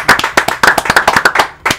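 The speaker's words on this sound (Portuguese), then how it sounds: "Ah, aplauso, Melody" Brief clapping from a small group at a casual family gathering, a quick burst of a dozen or so close, sharp claps with an uneven rhythm, ending with a short pause and one last clap.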